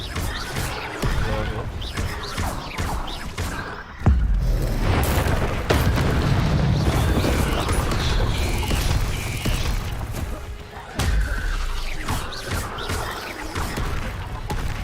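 Explosive spell blasts and rumbling game-world effects from Hogwarts Legacy, with a sharp boom around the fourth second and another near the eleventh, set among steady mechanical creaks and clatter while a voice talks throughout.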